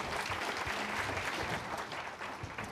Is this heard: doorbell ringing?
no